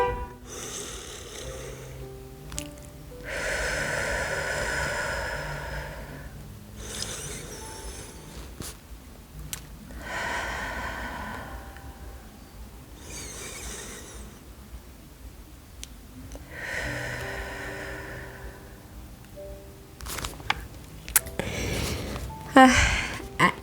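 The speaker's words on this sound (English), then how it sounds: "we're going to inhale through our nose and exhale through our mouth" Slow, deep breaths drawn in through the nose and let out through the mouth, three long broad exhalations spaced evenly several seconds apart, close and fairly soft with quiet gaps between.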